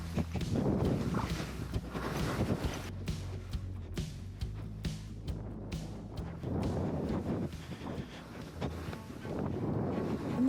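Cold wind gusting across an Arctic fjord on Baffin Island, a steady loud rush with buffeting on the microphone throughout, along with a low engine drone.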